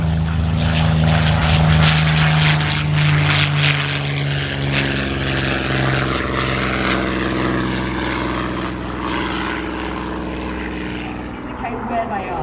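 A 1930s propeller aircraft drones loudly past at an air show, its steady engine hum holding strong and then slowly easing off.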